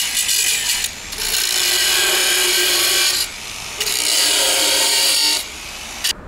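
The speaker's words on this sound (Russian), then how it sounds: "Придется болгаркой спиливать." An angle grinder cutting through metal on a DIY car repair, running in long steady harsh bursts with brief dips between passes, loud and close with no talk.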